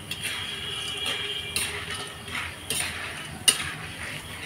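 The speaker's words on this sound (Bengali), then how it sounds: "আবার এইভাবে পাল্টিয়ে ভালো করে লাল লাল করে ভেজে নিতে হবে।" Jhuri bhaja, crispy fried potato strands, turned in a pan of hot oil over a wood-fired cookstove at night, giving a soft steady sizzle with light scraping and clinking of a spatula and one sharper clink.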